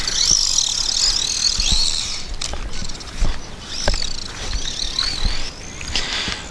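A JLB Cheetah 4x4 1/10-scale RC monster truck runs at full throttle, its high electric whine sustained and fairly close, with clattering bumps and knocks from rough ground throughout.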